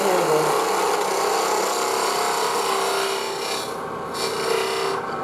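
A woodturning gouge cuts a small wooden icicle ornament spinning on a lathe, a steady close rasping scrape that holds on with only slight dips as the tool rides the bevel, no voices.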